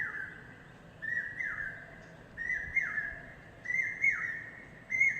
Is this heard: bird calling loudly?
yes